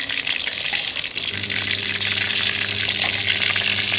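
Loud, steady sizzling of pork frying in a hot pan, a dense crackling hiss with a low hum underneath.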